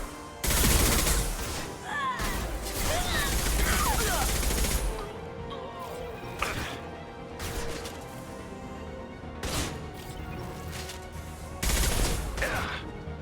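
Mass Effect 2 combat gunfire, heavy rapid bursts and sharp single shots over roughly thirteen seconds, loud and close, with a short lull in the middle and voices calling out between the shots.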